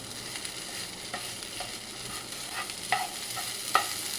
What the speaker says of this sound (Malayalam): നമുക്ക് ഇതിനെ നല്ല പോലെ ഇളക്കാം